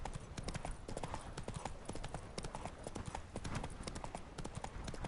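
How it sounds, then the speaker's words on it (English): Horse hooves gallop at a fast, steady clip-clop in the video game Witcher 3, a close and continuous rhythm with no talking. "Run, Roach"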